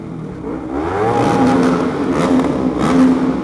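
A loud Honda CBR250RR sport motorcycle engine revving up, the pitch rising and holding with a throaty, buzzing drone close by.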